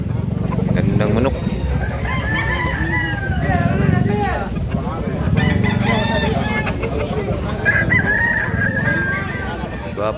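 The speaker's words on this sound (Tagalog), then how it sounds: "Daming manok dito mga idol." Several roosters crow repeatedly over a busy crowd at the Carbon Public Market in Cebu, with voices talking throughout and the calls overlapping at varying distances.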